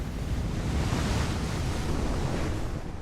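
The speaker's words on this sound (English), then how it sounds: "People must stay well away from the raging sea during these tempestuous times" Enormous ocean waves raised by a tropical cyclone in the Pacific roar in a continuous, loud wash of surf, with a heavy rumble and no break, alone with no voices.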